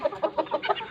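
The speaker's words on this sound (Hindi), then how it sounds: "ये जो सामने आप मुर्गा देख रहे हो" A rooster clucks in a quick rhythmic series of about six short, close, clear clucks.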